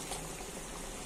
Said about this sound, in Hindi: अच्छे तरीके से चावलों ने हमारे पकना शुरू कर दिया है।